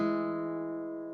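A single sustained two-note guitar chord, a harmony in thirds, rings out cleanly and slowly decays, with no other sounds around it.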